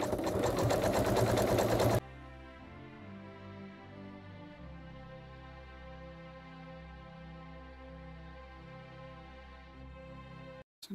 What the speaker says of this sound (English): so you can see we're coming round to the pin now. So I'm just going to stitch up to the pin.